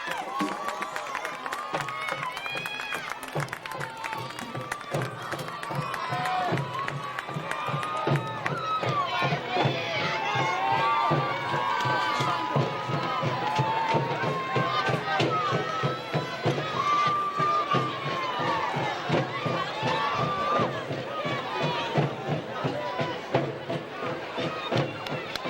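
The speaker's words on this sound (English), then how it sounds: "let's give them a nice round of applause as they come out onto the field" Stadium crowd at a 1999 Hand vs Guilford game applauding and cheering as the team runs onto the field, a steady dense roar of clapping and voices that holds for the whole stretch with crowd chatter mixed in.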